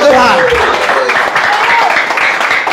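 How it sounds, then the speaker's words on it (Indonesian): A church congregation cheers and applauds for God, producing a steady wash of clapping and shouting, with a voice rising over the crowd near the start. "Berikan sorak-sorai buat Tuhan."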